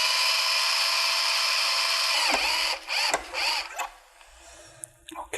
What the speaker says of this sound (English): It cuts off the outer insulation, it also trims the end of the cable